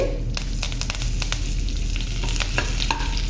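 Curry leaves hit hot tempering oil with dried red chilli and mustard seeds, giving a loud, steady sizzle with sharp crackling pops scattered throughout.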